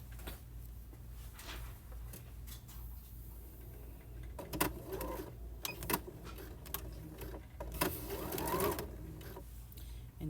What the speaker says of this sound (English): And then I just sew from the top and just stitch exactly where the stitching was